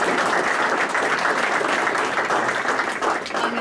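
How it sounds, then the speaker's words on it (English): A room full of people at a city council meeting claps for a group of team coaches, a dense, loud and sustained burst of applause with no single voice standing out. "let's give them a huge round of applause"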